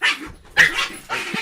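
A dog barks three times in quick succession, close and loud, each bark a sharp separate burst with short gaps between.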